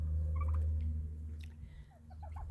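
Turkeys kept in a pen with chickens gobble in several quick rattling bursts, fairly close, over a steady low mechanical hum that fades partway through.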